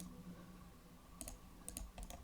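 A few crisp computer mouse clicks, sharp and close, over a low room hum on a Windows 10 PC, with a short double click near the end.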